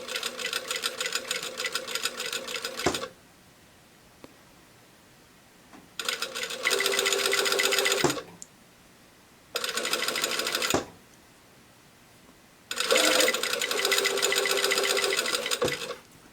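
Domestic sewing machine stitching two bodice layers together in short bursts of rapid, steady stitching separated by pauses, close and fairly loud.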